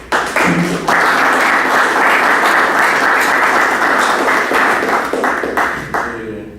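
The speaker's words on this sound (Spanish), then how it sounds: "Recibamos pues a Jorge con fuerte aplauso." A loud, dense burst of audience applause at a round-table tribute event in a university humanities faculty hall sustains for about six seconds, then tapers off toward the end.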